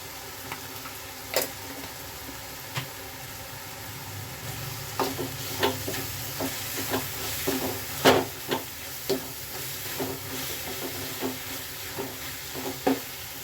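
Spice masala for palak paneer sizzles in hot oil while a spoon stirs it, giving a steady soft frying hiss broken by repeated sharp scraping clinks of the utensil against the pan.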